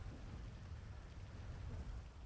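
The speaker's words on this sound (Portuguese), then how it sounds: "Tá chovendo muito, galera, e acabou a luz" Heavy rain in the GTA 5 video game falls steadily as a dense, even wash with a deep low rumble of thunder underneath, with no voices.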